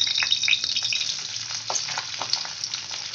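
Onion and tomato sizzling in a little oil in a kadhai for chhole, a bright continuous crackle with faint stirring scrapes, close and fairly loud.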